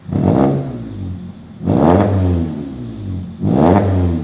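A Hyundai Tuscani four-cylinder engine with an aftermarket exhaust revs three times from idle, each throttle blip rising into a loud, throaty roar before settling back down, heard up close.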